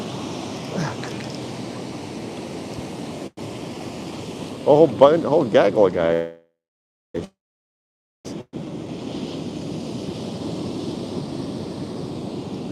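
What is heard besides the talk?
ocean waves breaking on shore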